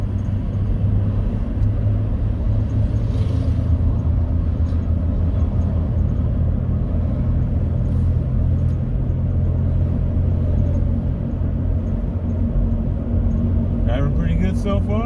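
2006 Chevy Trailblazer engine droning steadily while driving, a loud continuous low rumble with road noise throughout.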